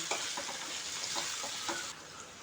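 Turmeric and spices sauté in hot oil in a pan for paneer bhurji, with a steady close sizzle and scraping stirs from a spoon against the pan.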